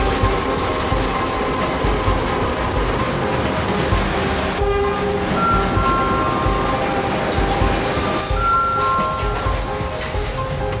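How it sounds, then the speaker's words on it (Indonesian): A passenger train arriving at Kota Bumi station rumbles steadily and loudly alongside, wheels clattering, while sustained tonal whines and brief horn-like notes rise over the continuous rolling noise. "Kereta api Kuala Stabas tiba di stasiun Kota Bumi."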